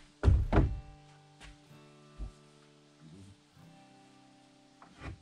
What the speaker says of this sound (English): Shut that door once.